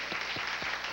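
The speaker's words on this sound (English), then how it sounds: "Can we have a round of applause for them?" A television studio audience applauds, a brief burst of dense clapping from many people that fills the full second.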